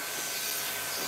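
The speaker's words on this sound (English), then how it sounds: "the machine that I am using, the clipper vacuum, is a Romani" Clipper vacuum grooming a long-haired Persian cat, fitted with a number 10 blade and number one comb, makes a steady close hissing whoosh of suction, loud and continuous with no break.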